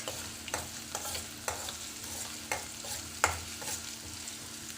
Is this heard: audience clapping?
no